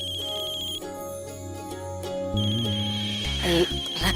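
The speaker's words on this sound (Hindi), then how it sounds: "रक्षा का फोन है" A telephone rings with a steady repeating electronic tone, fairly close, over a low hum and some background movement.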